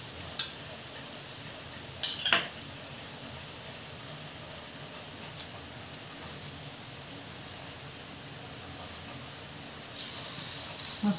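Mixed dal-and-rice appe fry in oil in a covered appe pan, a faint, steady hiss broken by a few light clinks, then a louder sizzle near the end.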